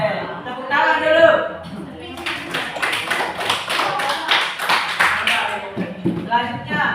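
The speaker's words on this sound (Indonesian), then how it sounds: "Oke, tepuk tangan dulu." A classroom of students clapping hands together after a lesson exercise, a burst of brisk, fairly close applause lasting a few seconds, preceded and followed by a teacher's voice speaking.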